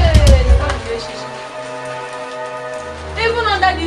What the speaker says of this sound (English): Even under this rain.